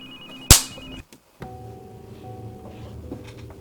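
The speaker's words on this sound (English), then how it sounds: "suddenly heard a loud ringing sound coming from my closet" A phone rings from inside a closet: a ringtone tone sounds, then a sharp loud thump, a brief near-silence, and a steady layered ringing that continues to the end.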